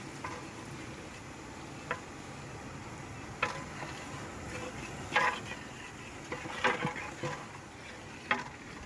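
Finely chopped onion and green chili frying in hot oil for a village-style wedding masale bhat, a soft continuous sizzle under scattered clinks and scrapes of stirring, with no talk.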